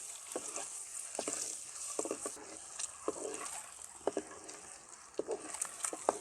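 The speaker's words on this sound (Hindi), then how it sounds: "और अब इनको जो है ना वो अच्छी तरह से फ्राई कर लेना है।" Eggs frying over medium heat with red chili and salt crackle steadily in a pan, with sharp pops and spits scattered irregularly over a constant hiss, close and unaccompanied by talk.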